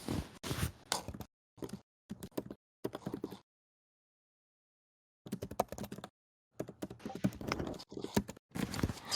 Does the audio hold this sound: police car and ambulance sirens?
no